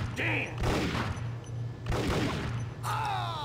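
Desert Eagle gunfire in the Max Payne video game, with several sharp, loud bursts of shots in quick succession over a steady low in-game background hum.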